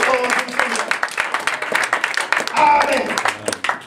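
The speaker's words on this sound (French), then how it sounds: "On acclame encore pour le Seigneur." A church congregation applauds and claps in praise, a dense continuous wash of hands close and loud with voices calling out mixed in throughout.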